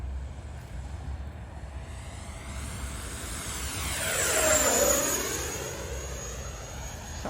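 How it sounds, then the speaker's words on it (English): An FMS 64mm F/A-18 Hornet RC electric ducted-fan jet makes a high-speed pass, its whining roar swelling as it approaches, peaking with a Doppler sweep overhead, then fading away outdoors. "Let's go high speed pass, one high speed pass"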